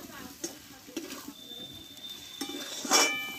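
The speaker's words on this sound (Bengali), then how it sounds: "দিয়ে বেগুন আলু একসঙ্গে একটু আমি নাড়াচাড়া করে নেব।" Eggplant and potatoes are stirred together in a pan with spice paste, a spatula scraping and tapping the metal amid a gentle sizzle, ending in a louder clatter.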